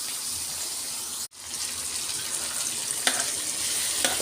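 Tomatoes sautéing in a frying pan give off a steady, close, broadband sizzle that cuts out for a moment, then returns with a few faint stirring clicks.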